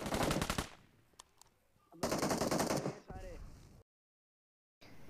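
Automatic gunfire in PUBG Mobile, with long loud bursts of rapid shots broken by short gaps, a few isolated shots and a sudden cut to silence before firing resumes.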